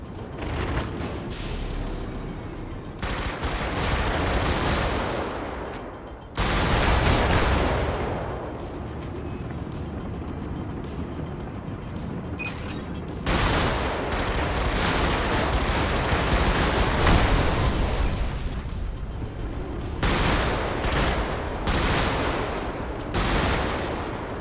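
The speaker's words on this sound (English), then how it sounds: "Explosions are loud and will draw enemy attention." Bombs blow up pipes in the video game Brigador, loud booming blasts in several bursts with rumbling gunfire-like crackle between them, no talking.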